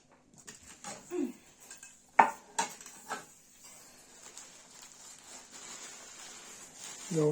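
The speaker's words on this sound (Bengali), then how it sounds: "দাঁড়াও, প্লেটগুলো আগে রেডি করি।" Plates being laid out for dinner, with several close clinks and clatters of dishes and cutlery spread across the moment before things settle into soft background rustling.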